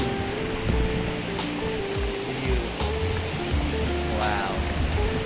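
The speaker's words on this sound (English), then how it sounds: "Look at this stream." A clear mountain stream in Yellowstone, flowing loud and close as a dense, steady rush of water over rocks, continuous with no voices.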